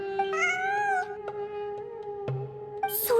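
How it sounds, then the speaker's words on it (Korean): A cat meows in the video game Genshin Impact, a clear wavering call heard up close over a sustained musical tone, with brief clicks and a bright burst at the end. "환청이 아니야. 진짜 고양이야."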